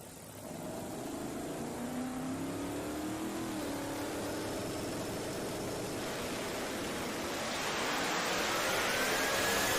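A boosted drag racing car launches down the strip at a street nationals event in Orlando, its engine a loud continuous roar that climbs steadily in pitch and intensity over about ten seconds, heard from a distance with no talking.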